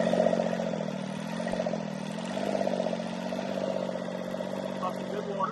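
A Westerbeke 21 marine diesel running with the throttle worked, a steady clattering drone with slight swells in pitch, close and continuous under a voice.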